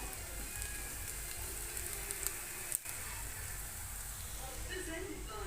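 Onions sautéing in a pan for a chicken curry give off a steady, close, broadband sizzle that continues without a break, with only a brief dip partway through.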